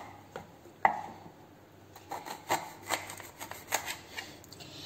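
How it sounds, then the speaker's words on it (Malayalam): A knife scoring the oiled skin of a raw banana for banana chips gives soft, irregular scraping and light tapping strokes, with one sharper tap early and quicker cuts later, close and quiet with no speech. "ഇനി നമുക്കൊരു കത്തി എടുത്തതിന് ശേഷം രണ്ട് ഭാഗവും ഇങ്ങനെ മുറി ഇട്ട് കൊടുക്കുക"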